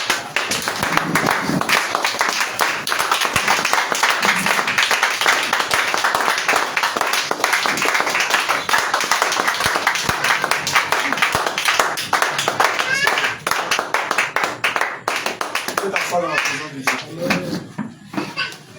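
Church congregation at an evening thanksgiving service claps steadily and cheers in praise of Jesus, a loud, dense wall of applause with voices calling out throughout.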